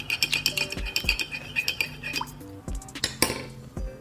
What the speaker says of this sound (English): I'm gonna mix it in.